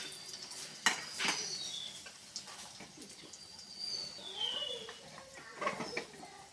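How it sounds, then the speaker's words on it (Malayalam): Metal spoon clinks and scrapes against a pan while ingredients are stirred into a Kerala prathaman, producing scattered close taps and soft scraping at an uneven rhythm, fairly quiet throughout. "ഇതെല്ലാം കൂടി ഇതിലോട്ട് ചേർത്ത് കൊടുക്കാം. ഇളക്കി കൊടുക്കാം."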